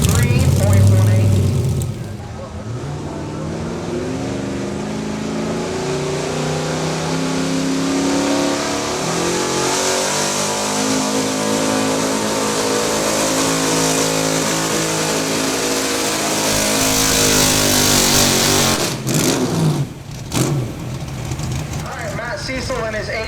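A 1987 GMC truck roars under load at a truck pull, its engine revving hard and sustained for about twenty seconds before cutting off, loud and close, with an announcer speaking over the event.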